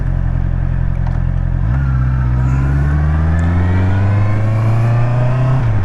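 Honda CBR650R motorcycle accelerating on a test ride, its engine note rising steadily through the revs after a gear change, loud and continuous under heavy wind rush.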